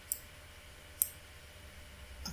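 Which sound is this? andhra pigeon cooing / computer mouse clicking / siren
computer mouse clicking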